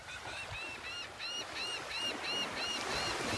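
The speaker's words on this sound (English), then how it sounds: "Listen to the gulls." Gulls squawking on a beach in North Naples, Florida, a series of repeated bright calls at moderate distance over steady wind and surf.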